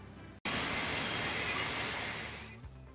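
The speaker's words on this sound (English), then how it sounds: "this train is approaching the iron mine" Freight train in the game Transport Fever 2 approaching an iron mine: a loud, steady rolling rumble with a high, sustained wheel squeal that starts abruptly and holds for a few seconds before easing off.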